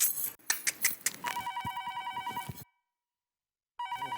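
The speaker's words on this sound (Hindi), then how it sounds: "फोन आया।" A telephone ringing indoors in a kitchen scene, its bright warbling electronic ring repeating in two bursts separated by a short silence, with some clattering and household noise at the start.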